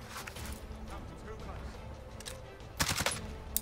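QBZ rifle fire in Warzone, a few short bursts of rapid shots, the loudest burst near the end, heard under a commentator talking.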